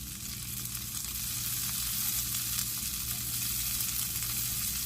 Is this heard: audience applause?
no